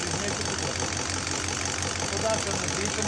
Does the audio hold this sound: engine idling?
yes